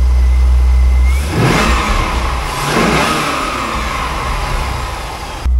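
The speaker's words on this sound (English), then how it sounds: "LS1 running beautifully." A 2001 Chevrolet Corvette C5 convertible with its LS1 V8, close and loud: a steady idle broken by two sharp rising revs in quick succession that fall back to a rough, even idle.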